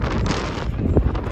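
Wind gusts buffet the microphone outdoors near a camper van, a loud rough rumble that swells and dips throughout the clip.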